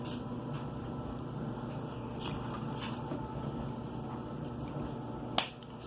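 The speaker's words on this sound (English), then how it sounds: "I'm doing laundry right now, so if you can hear something in the background, it's my" Clothes dryer running in a home laundry, a low steady droning rumble that stays constant underneath, with a sharp click near the end.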